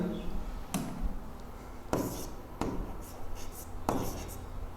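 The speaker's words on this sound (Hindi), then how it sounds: "लिख देते हैं" Pen scratches across paper as a chemical equation is written out by hand, several distinct strokes and taps up close, with someone speaking over parts of it.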